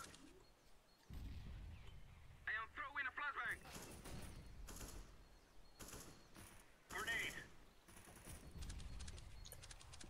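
Gunfire in a CS:GO firefight, sharp bursts of shots and rapid volleys at irregular intervals, fairly loud against background game noise.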